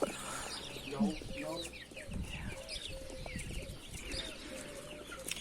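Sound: chicks peeping

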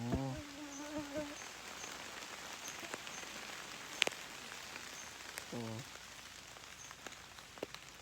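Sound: rain falling

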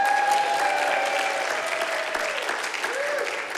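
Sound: audience applause as a guest comes up on stage

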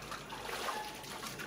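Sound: water being thrown out

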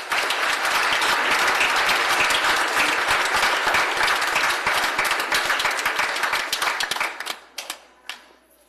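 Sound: congregation applauding

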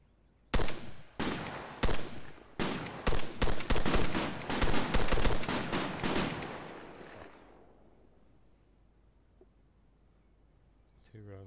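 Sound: belt-fed machine gun fire in video game ARMA 3

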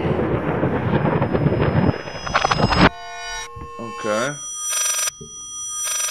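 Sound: telephone ringing played in reverse, Layers of Fear video game

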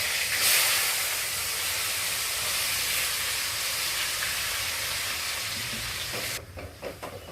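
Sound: rambutan fruit frying in oil for pickle

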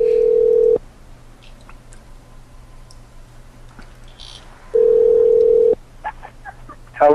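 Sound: telephone dial tone and dialing to call back

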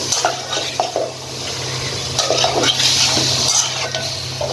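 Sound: broiler chicken being stirred and fried in a pan

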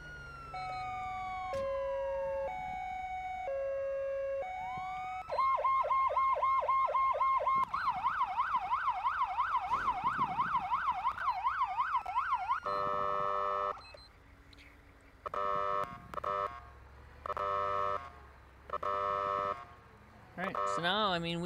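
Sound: ambulance siren from the Siren Mastery siren pack

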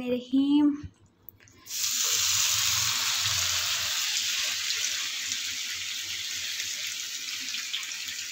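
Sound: meat frying in oil in a pan

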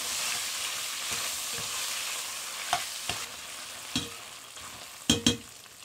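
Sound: tomato paste frying with beef in a pot

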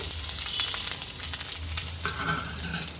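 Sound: chopped ginger and garlic sizzling in hot oil

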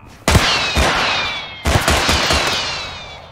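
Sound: gunfire in video game Totally Accurate Battle Simulator

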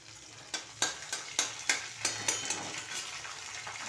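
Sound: onion frying until brown with curry leaves

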